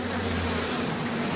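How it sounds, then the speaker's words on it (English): An insect-swarm attack plasmid in the video game BioShock Remastered releases a swarm of bees, giving a steady, dense buzzing drone with a low hum, close and continuous for just over a second. "Get him, bees."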